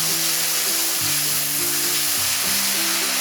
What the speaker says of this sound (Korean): 버섯이 숨이 죽으면 팽이버섯, 홍고추, 청고추, 양념장을 넣고 볶아주세요.